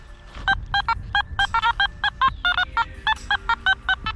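Metal detector beeping over a buried target at a lakeside dig site, probably silver: a quick run of about twenty short, bright electronic tones in an uneven rhythm, with faint rustling and thumps underneath.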